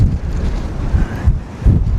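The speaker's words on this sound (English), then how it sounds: "It's windy." Strong stormy wind buffets a camper parked in winter Norway, a steady roaring rush with gusty surges and low rumbling buffets against the microphone, loud throughout with no talking.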